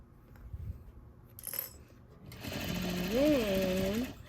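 Sewing machine stitching a back stitch on a placemat, a loud steady whir for about two seconds after quieter handling noises, with someone speaking over it.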